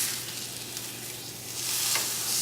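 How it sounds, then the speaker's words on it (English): Pork loin searing in a hot pan, a close, continuous hiss and crackle of sizzling fat that holds steady and swells slightly near the end. "what you're really looking for here is to get a nice sear on it on all sides"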